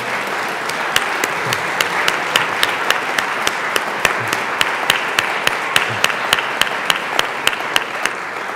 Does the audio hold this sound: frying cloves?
no